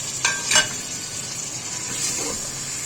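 Tomatoes fry in oil in a pan for chicken curry, giving a steady close sizzle with a couple of scraping stirs near the start and a softer one later.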